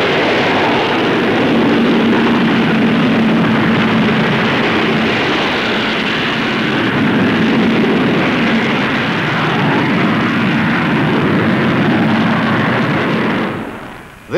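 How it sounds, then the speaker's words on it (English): An Avro Vulcan B.2 delta-wing jet bomber takes off at the Farnborough air show, its four Bristol Siddeley Olympus engines producing a loud, sustained roar that fills the air before cutting off abruptly at the end. "Watch this fantastic takeoff of the Avro Vulcan."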